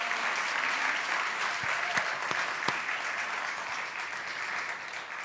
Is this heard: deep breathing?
no